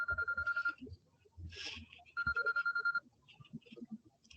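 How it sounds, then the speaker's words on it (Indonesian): A telephone rings in repeated electronic bursts, close and fairly loud, with brief background noise between rings during an online mathematical statistics lecture; no one speaks. "Aduh, maaf ada telepon lagi nih penting nih."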